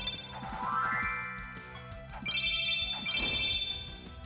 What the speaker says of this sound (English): I don't know whose phone that is.